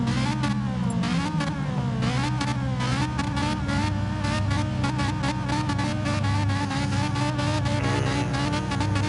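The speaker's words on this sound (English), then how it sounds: "That is a good engine sound." A loud, steady GT4 race car engine drone runs throughout at Interlagos, with harmonic tones gliding up and down as the motor idles and shifts pitch, close and continuous.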